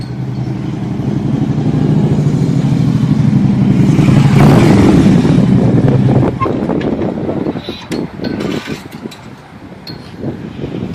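A motorcycle fitted with CFR exhaust pipes revving loudly and close, a deep rumbling roar that swells and then drops, with wind noise and scattered rattles as it fades.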